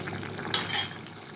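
Potato fry is stirred in a hot pan, with a brief scrape and sizzling shuffle of a spatula, two quick strokes over low background hiss.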